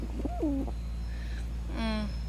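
Pigeons coo softly nearby, with two short, rolling calls separated by a brief pause against a quiet background hum.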